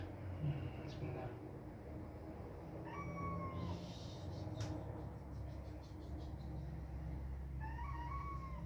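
An injured cat named Rui meows at a veterinary clinic, a few short rising cries standing out over a steady low hum of room noise.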